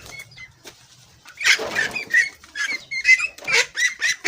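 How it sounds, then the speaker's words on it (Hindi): Bursts of ducks' wings flapping close by as they fly, mixed with harsh squawking calls from several ducks, growing busier after a quiet start. "ये उड़ती हैं ये बतखें, ये देखें।"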